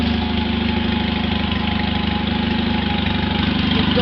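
Straight piped lawn mower engine idling, a loud steady low throbbing putter with a rapid uneven knock, constant and close.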